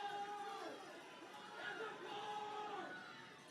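Crowd chatter and murmuring from frustrated home fans in the stands at a Texas girls' high school soccer semifinal, a steady mid-level hum of voices with a few raised calls swelling and fading, picked up by a near-side crowd mic.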